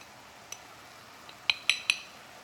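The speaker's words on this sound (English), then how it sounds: "Give that a good stir." A spoon clinks against a pan while Parmesan cheese is stirred into a chicken alfredo sauce, making a few sharp metallic taps, three of them close together near the end, with quiet moments between.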